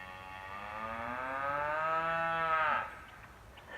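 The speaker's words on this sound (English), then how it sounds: "Cows are making all kinds of noise. I think they're waiting to get fed." A single cow gives one long, drawn-out moo while waiting to be fed. It rises and holds for nearly three seconds before it trails off, fairly faint and distant over quiet outdoor background.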